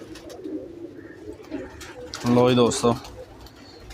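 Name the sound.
Lakwe breed pigeons cooing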